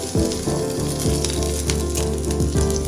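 Green chillies frying in hot oil with cumin and dried red chillies, giving a loud, steady sizzle that runs unbroken from start to finish, with a faint low hum underneath and no talking.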